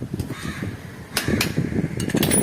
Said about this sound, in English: so you can just tap it with the screwdriver.